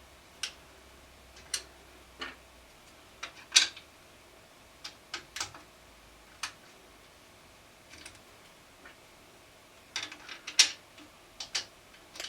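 Screws being fitted to mount a simulator rig base onto a support bracket, quiet scattered metallic clicks and ticks spaced irregularly in a near-silent room.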